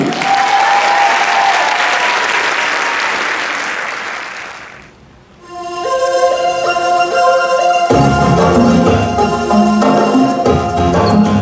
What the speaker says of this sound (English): let's give a warm round of applause for 2017 Brewster alumnus, John Delgado.